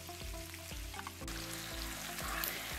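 Chopped onions go into hot oil with cumin seeds in a pan and start a soft, steady sizzle partway through, quiet beneath a rhythmic tonal background.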